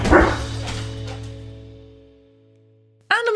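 Pepper, a pet dog, lets out a loud close bark that trails off into a short whine, then after a brief pause starts a second bark, with no voices.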